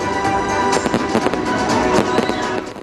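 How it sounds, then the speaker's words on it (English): New Year's Eve fireworks burst at the Arc de Triomphe in Paris just after midnight, a rapid series of loud cracks and pops rolling over a constant crowd and explosion roar. "Seconds before midnight, a countdown clock was displayed on the monument's facade before a spectacular show of fireworks."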